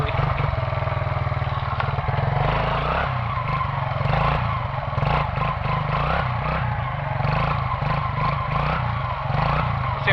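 Quad ATV engine revving hard through a wheelie outdoors during a thunderstorm, a loud continuous rasping drone that rises and holds close up, with no clear talking.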